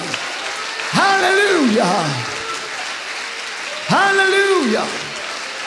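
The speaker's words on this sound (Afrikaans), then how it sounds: "gee hom nog 'n laaste hande klap" A church congregation claps its hands in a steady wash of applause while a voice calls out twice in a drawn-out, sung tone above the clapping.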